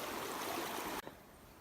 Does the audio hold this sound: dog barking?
no